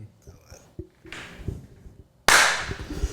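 Several people clap in a podcast studio, a short loose burst of applause rising sharply near the end and sounding close and loud, with scattered chatter and mic noise before it.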